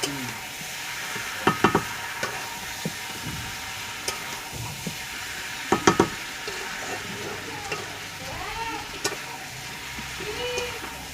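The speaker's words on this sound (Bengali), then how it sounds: "এবারে বন্ধুরা ভালো করে মাংসটাকে কষিয়ে নেব" Chicken pieces sautéed in a pan with coriander leaves, a steady frying hiss under intermittent spoon scrapes and clacks against the metal, close, with brief quiet voices in the background.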